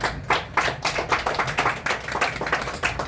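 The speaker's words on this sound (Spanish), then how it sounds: "Aplausos, por favor." A small bookshop audience at a talk on César Vallejo claps steadily and briskly for a few seconds, close and fairly loud, with no voices.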